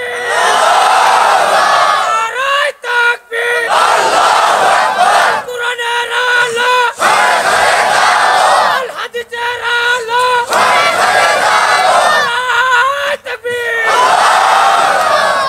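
A crowd at a Bangladeshi religious sermon in Rangpur shouts takbir in loud unison, with repeated massed chants that rise and break off in waves, some short pauses between bursts.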